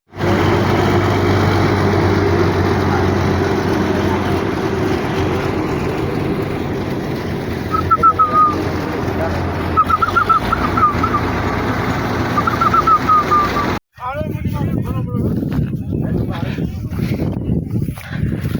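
A tractor engine chugs steadily for the whole stretch while people talk over it, with a brief cutout near the end.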